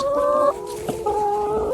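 Hens cluck close by, a few drawn-out, throaty calls overlapping one another.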